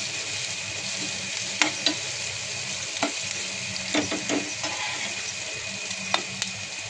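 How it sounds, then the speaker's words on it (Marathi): Chopped onion with ginger garlic paste frying in a pan for potato bhaji, a soft steady sizzle close by, broken by a few sharp clicks and scrapes of stirring, with no talking. "कांदा चांगला फ्राय करून घेऊया."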